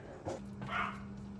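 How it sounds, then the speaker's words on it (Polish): A pet dog in a home kitchen gives a couple of short, faint barks and yips, somewhat distant, over a steady low appliance hum while a cheesecake bakes. "Dzisiaj słyszycie naszego pieska, bo dzisiaj ma dzień otwartości."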